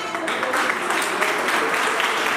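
Audience applause fills a hall after a story about a rickshaw bought for a man from saved tea money, steady dense clapping close by throughout, with faint voices underneath.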